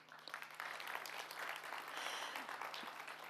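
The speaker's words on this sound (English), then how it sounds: "These applauses for our graduates." Audience applause for graduates at a live event in Istanbul, a dense steady wash of many hands clapping that swells after a quiet start and holds at a fairly loud level throughout.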